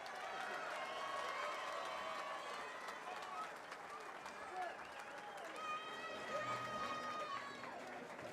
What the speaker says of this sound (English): how about a fine round of applause for both boxers?